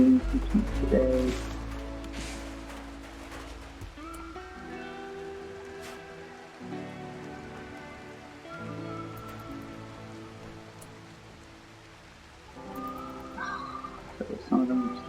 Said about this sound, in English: So some of them just look outside in the rain.